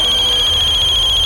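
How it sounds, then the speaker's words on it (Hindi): A telephone rings in a tense indoor scene from a crime drama, its steady electronic tone pulsing continuously and clearly for the whole moment with no talking. "किसका फोन बजा बे? किसका फोन बजा?"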